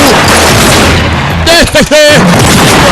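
Gunfire in an action film soundtrack, heard as loud, dense bursts of shots and booms packed into the middle of the clip over a busy background of music and effects.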